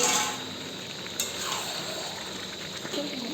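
Spiced chicken and pre-fried potatoes sizzle steadily in a pan while being stir-fried, a continuous close hiss with occasional scraping clinks from stirring.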